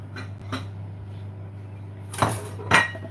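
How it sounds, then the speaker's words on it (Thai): Food is scooped onto a plate, making a few distinct clinks and scrapes of a utensil against dishes, close and fairly loud over a steady low hum, with no talk. "มาเราก็จะตักกับข้าวไปใส่จาน"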